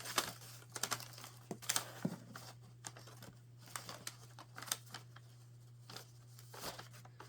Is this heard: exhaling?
no